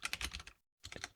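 Rapid keystrokes on a computer keyboard, close and fairly loud, come in a quick run, stop for a brief pause, then carry on in another burst.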